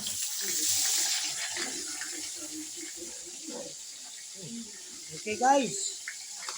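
Tap water runs into a bowl while rice is washed by hand, a soft steady splash with small clinks and swishes, under intermittent speech in the room.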